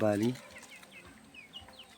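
A hen clucks once, loud and close, in a home courtyard where ducks and chickens are kept, followed by faint chirping bird calls in a quiet yard.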